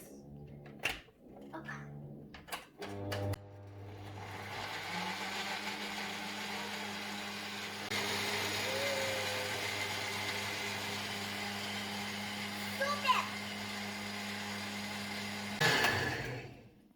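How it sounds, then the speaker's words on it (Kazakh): A blender whirring as it blends banana and milk into a cocktail, starting after a few clunks of the lid and jar, then a loud steady motor hum with a pitch shift midway before stopping, with no talking. "Блендердің бетін жауып, аластырамыз."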